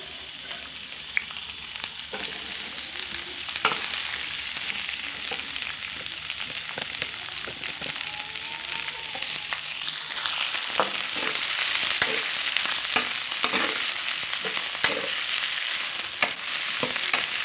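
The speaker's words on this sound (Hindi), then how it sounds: "एंड इसी में मुझे भिंडी फ्राई करनी है।" Okra (bhindi) frying in hot oil in a kadai with onion, giving a steady bright sizzle throughout, with sharp scraping and stirring clicks now and then as the pieces are turned.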